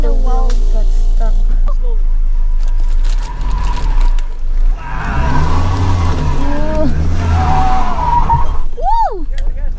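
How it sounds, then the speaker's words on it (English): A car struggling on a steep, narrow road with a stuck wheel, engine straining and tires scrabbling loud and close, while people exclaim in the cabin over the noise. "Whoa. The wheel got stuck."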